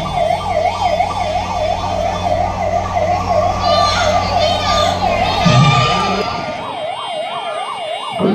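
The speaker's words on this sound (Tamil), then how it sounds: "அப்பொழுது அந்த வழியாக ஆம்புலன்ஸ் வாகனம் வந்தவுடன்" Ambulance siren wailing in a repeating rising-and-falling pattern as the vehicle pushes through a dense crowd of public and party supporters at a roadside political event in Thoothukudi, loud and close over crowd noise and shouting, cutting off near the end.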